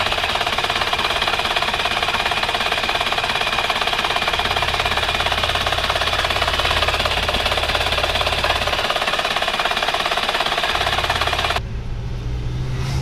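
A cold, high-mileage diesel engine around 270,000 km idles with a steady, loud, rough knocking drone throughout, then the sound shifts and thins near the end, with no talk.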